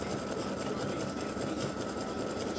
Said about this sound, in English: it's getting ready to do the satin stitching around the star.